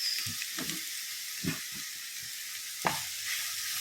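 Chopped green chilies fry in hot oil in a pan for a tuna pickle, giving a steady bright sizzle with a few stirring scrapes and clatters of the spoon, close up and with no voices.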